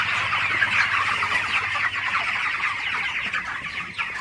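Broiler chickens on a farm, a dense flock clucking and chattering continuously, close and fairly loud, with no talk.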